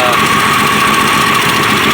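Engine of a 1965 Plymouth Valiant running with an exhaust leak at a warped factory flange, a loud steady rumble with a constant raspy hiss, recorded up close.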